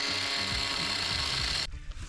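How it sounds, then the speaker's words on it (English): An angle grinder cuts through rebar at an off-grid container build, a loud steady abrasive whine that drops away abruptly near the end, leaving quieter clattering. "I'm going to cut some rebar. I don't like where the sparks are going."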